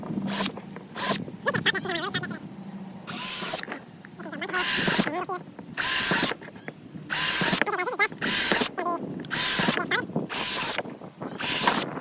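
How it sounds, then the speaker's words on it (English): An electric drill whines in repeated short bursts, about a dozen separate runs with pauses between, loud and close, with some talking early on. "I'm just gonna go crazy on this and drill a bunch of holes"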